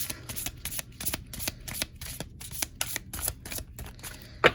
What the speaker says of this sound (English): I think that's hopefully shuffled enough